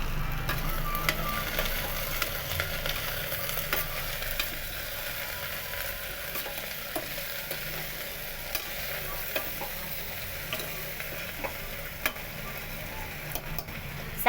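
A spoon stirs tindora and potato curry with coriander powder, salt and spices in a pan, giving a steady soft sizzle with light scraping taps throughout, heard close and alone.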